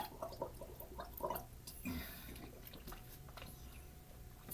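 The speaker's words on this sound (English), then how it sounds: "Gargling helps." A person gargles close to the microphone, producing soft, bubbling throat gurgles in a few uneven bursts at a fairly low level.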